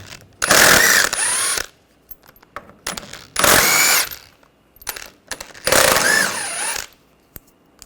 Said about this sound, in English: We're going to take these bolts out. Use a 13mm socket.